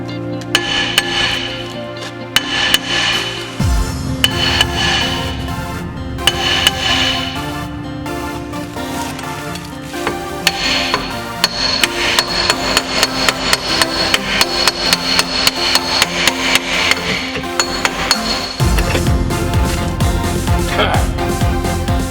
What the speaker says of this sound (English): with a hammer on the side, and then it will slide off eventually